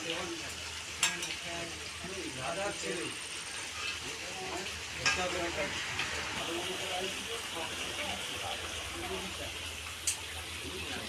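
Desi rooster chicken curry sautéing in a pan, a steady sizzle and frying hiss with occasional clinks of a spoon against the pan, continuous and close.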